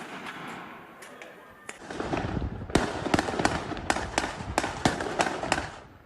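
Fireworks thrown during protests on the occupied West Bank crackle and pop in rapid bursts, faint at first, then a louder run of sharp bangs over a noisy crowd-like background.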